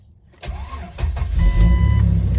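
A car engine cranks after silence, catches and settles into a loud, steady idle, close by and with no talking.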